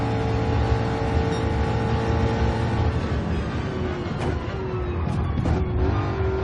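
Ford Mustang in Gran Turismo 7 at Watkins Glen, a loud sustained engine drone held at high revs, with pitch shifts from gear changes toward the end.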